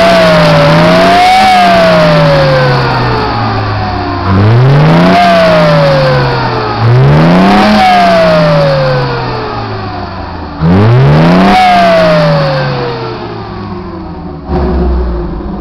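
A Datsun engine with a fairly large cam, freshly rebuilt, revs hard toward about 6,000 RPM three times, each time climbing sharply and then falling back to idle. The engine is loud and close, and no one speaks.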